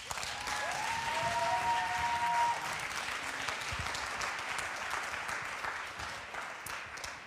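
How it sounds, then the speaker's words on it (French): An audience at a comedy show at the French National Assembly applauds to welcome a performer onto the stage, a steady wash of clapping sustained for several seconds with a brief tonal sound early on. "Merci d'applaudir Tiffany."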